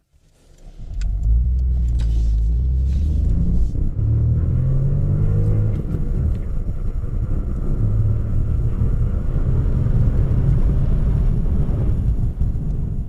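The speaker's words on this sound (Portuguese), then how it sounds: "Olha, ele chega a 60 bem rápido, e o motor, especialmente por ser um 3 cilindros, é realmente suave." A 3-cylinder Honda Insight Mk1 hybrid accelerates through the gears, its smooth engine hum rising in steady pitch steps over a constant low rumble of road and tyre noise, close and loud throughout.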